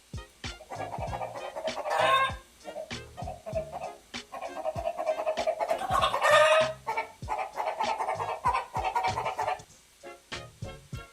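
A person imitates chicken clucks and squawks for a video game, producing a loud, rapid string of short vocal bursts with a few longer squawking calls in between.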